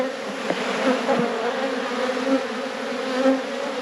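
Honey bees drone in a steady, close hum as a hive is opened for a spring inspection, the buzzing continuous with a few louder passes near the listener.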